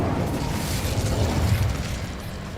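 Incendio fire spell in Hogwarts Legacy, a sustained roaring burst of flame with rumbling low end, steady and fairly loud amid game ambience.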